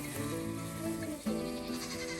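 A mini goat bleats in one long, wavering cry, close and fairly quiet, with a short break in the middle and no talking over it.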